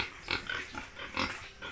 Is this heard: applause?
no